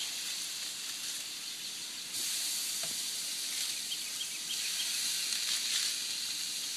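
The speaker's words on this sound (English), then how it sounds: "I'm getting ready to throw these chops on the grill." Sauce-slathered pork chops of fair thickness sizzle on a grill under barbecue sauce: a continuous bright hiss close by that swells slightly partway through, with no talking.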